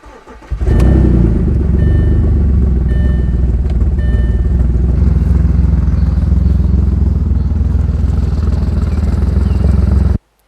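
An Audi A4 engine cranks and catches, then settles into a loud, steady idle that runs on evenly for several seconds.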